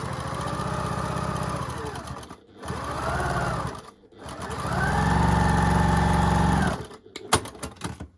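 A sewing machine stitches a quilt seam in several loud runs, whirring up to a steady mechanical hum, pausing between bursts, then a few clicks as it stops, very close.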